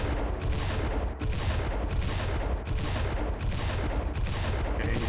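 Devastator weapon firing in the video game Serious Sam 3 BFE, a dense barrage of loud booming shots and blasts piling up continuously over about five seconds with no talk.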